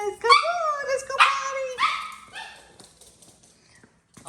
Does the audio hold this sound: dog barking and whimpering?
yes